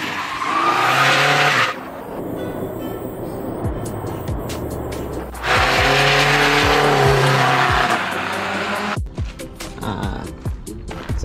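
A 1996 Subaru Legacy wagon drift car, wide-body with an 02 front end, screeches through loud tire-squealing skids in two long bursts, engine roaring beneath, with a brief quieter stretch of rumble between them.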